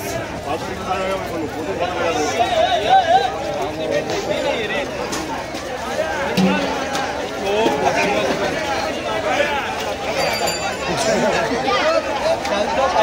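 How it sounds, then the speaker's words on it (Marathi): Dense crowd babble fills the busy Bhaucha Dhakka wholesale fish market in Mumbai, with many overlapping voices near and far and occasional shouts, steady throughout. "फुल गर्दी आहे मित्रांनो."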